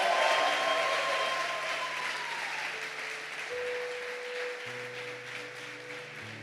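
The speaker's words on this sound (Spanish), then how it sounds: "Denle un aplauso a esos hombres que..." Steady crowd applause fills the whole stretch, a dense wash of clapping at even strength, with sustained musical tones ringing underneath, at a church service.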